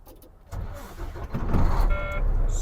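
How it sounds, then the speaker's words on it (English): A truck engine starts before an air brake inspection: a quiet moment, then cranking, and the motor catches into a louder, steady running rumble with some higher mechanical whine. "now we are ready to start the truck"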